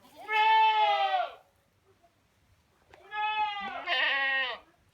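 Baby goats bleat outdoors in two clear, close, wavering calls separated by a short pause, with no talking.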